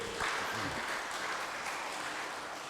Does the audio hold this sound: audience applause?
yes